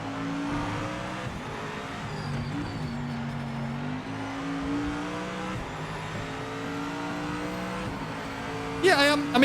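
A race car in the Project Motor Racing sim game drives steadily, its engine tone climbing and dropping through gear changes, with a brief burst of sharper noise near the end and a voice talking over it.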